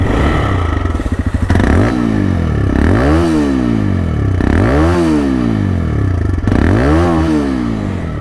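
Close, loud revving of a TVS Raider 125 motorcycle with a side-mounted exhaust; after a rough, clattery idle the 125cc engine is blipped three times, each rev climbing quickly and dropping back to idle.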